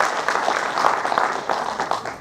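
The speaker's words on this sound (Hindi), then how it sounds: "जोरदार ताली बजा के स्वागत करो" A crowd at an Ambedkar Jayanti gathering in Dungarpur claps in welcome, a brief burst of mixed, uneven clapping with a few voices faintly underneath.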